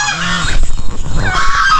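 Turkeys call on a small backyard farm with harsh, goose-like honking gobbles, several loud, close calls in a quick burst, with no talk.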